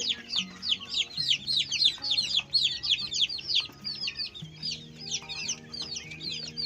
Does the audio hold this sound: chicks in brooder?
yes